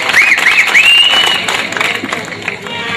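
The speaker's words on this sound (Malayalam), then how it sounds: "ഒന്ന് കൈയടിക്ക." Audience at a Malayalam comedy stage show applauding, a loud continuous crowd clapping with some cheering and a brief whistle early on.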